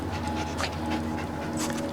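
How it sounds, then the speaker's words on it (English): A dog panting inside a bag in the Assassin's Creed Syndicate video game, quick rhythmic breaths close and steady, with a faint whimpering edge and no talking. "There's a dog in the bag."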